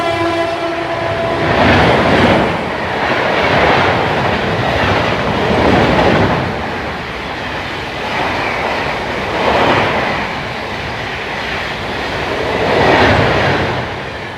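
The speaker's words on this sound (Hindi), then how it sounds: "दोस्तों आ चुकी है अपनी सचखंड सुपरफास्ट, ओवरटेक मारने के लिए अपनी दिल्ली फाजिलका इंटरसिटी।" The Sachkhand Superfast overtakes the Delhi Fazilka Intercity at Ganaur station, starting with a horn blast, then loud rhythmic bursts of wheel clatter rising and falling as coaches race by close up.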